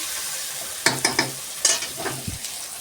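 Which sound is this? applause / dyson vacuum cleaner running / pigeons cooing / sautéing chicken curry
sautéing chicken curry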